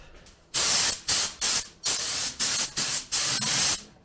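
A spray can lays down a light, dry coat of gold paint in eight loud, close bursts of hiss separated by brief pauses, with no voices.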